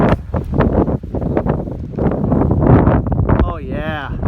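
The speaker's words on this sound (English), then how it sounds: "When you're up here, this is wind, baby." Gusty wind in the White Mountains of New Hampshire roars and buffets the microphone near the summits while someone talks over it.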